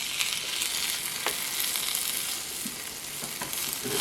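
Tomatoes and corn sizzle steadily in a hot pan for calabacitas, a close, constant frying hiss with a few soft stirring scrapes and no talking.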